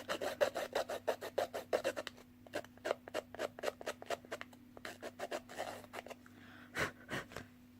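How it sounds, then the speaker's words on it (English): A scissors edge is scraped back and forth across cardstock in a papercraft session, producing a quick run of short, close raspy strokes, then a pause and another steady series of rhythmic scrapes. "So use the edge of the scissors"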